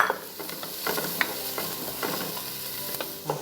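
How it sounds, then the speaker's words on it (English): Garlic sizzles in a pan of cooking onions for penne alla vodka, a steady close crackle with scattered stirring scrapes and small pops throughout. "Onions have started to cook. We're gonna add in our garlic."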